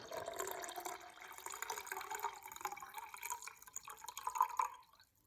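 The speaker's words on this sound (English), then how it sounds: "I'm going to take this water though, and I'm going to try with one hand to fill it up." Water poured by one hand into a glass, a soft continuous trickle and splash with the pitch rising as it fills, faint and close, ending abruptly after about five seconds.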